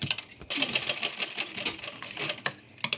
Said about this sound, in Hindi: एक सिलाई और लगा लूँगी मैं